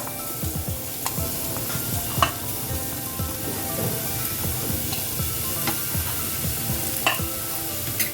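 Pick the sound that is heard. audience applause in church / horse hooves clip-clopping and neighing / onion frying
onion frying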